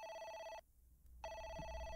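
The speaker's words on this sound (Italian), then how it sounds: "Telefonata." A telephone rings in the horror game Oxide Room 104, two bright electronic trilling bursts separated by a short pause, loud and close with no talking.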